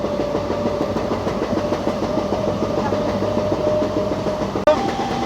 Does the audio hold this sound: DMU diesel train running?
yes